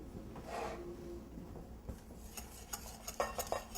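Hot milk and heavy cream whisked into egg yolks and sugar in a bowl, quiet scraping and stirring at first, then a run of light clinking taps of a utensil against the bowl near the end.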